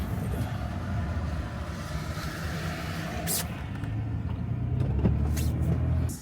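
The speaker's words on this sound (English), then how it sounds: "It's busy on this road." Busy road traffic rolls past in a continuous broadband rush of cars and heavier vehicles, with a brief hiss midway and the roar swelling louder toward the end.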